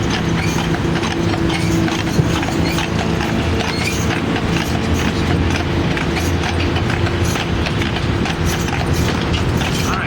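Steady clip-clop of carriage horse hooves on pavement in Stanley Park amid continuous traffic and street noise, a dense rhythmic clatter running throughout.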